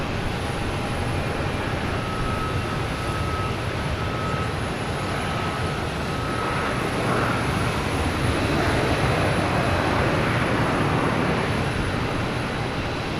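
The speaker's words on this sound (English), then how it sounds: "We get JetBlue coming in from San Francisco," JetBlue Airbus A321 arriving at Boston Logan, a broad, steady jet roar with a faint whining tone, gradually swelling slightly toward the end, heard from a distance without voices.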